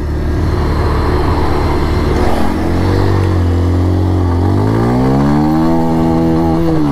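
Bajaj Pulsar 125 motorcycle engine pulling away onto a highway, a loud close steady drone whose pitch climbs, dips at a gear change and climbs again as it accelerates, with no talking.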